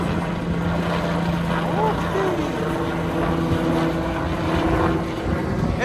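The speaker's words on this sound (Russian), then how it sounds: "Это вертолет, который катает людей." A sightseeing helicopter giving rides drones steadily overhead at a moderate distance, its rotor hum continuous behind voices and crowd noise at a castle grounds.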